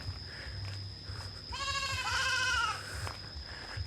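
A single goat lets out one drawn-out, wavering bleat at moderate distance in a rural Lao setting, heard over a steady background hum.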